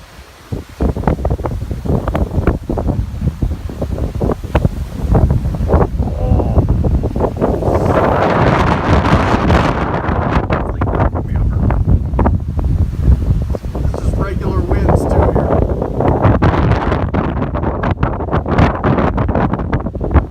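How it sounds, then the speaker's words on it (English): Strong gusty wind in Simi Valley batters the microphone in loud, continuous roaring buffets, rising and falling in intensity across the whole recording. "It's about 11 a.m. here in Simi Valley, and it is really windy."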